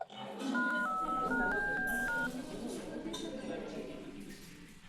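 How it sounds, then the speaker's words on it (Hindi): Telephone keypad tones as a number is dialed, a short run of distinct beeps stepping in pitch during the first two seconds, fairly close and clear over background room noise. "अंकल को फोन करता हूं।"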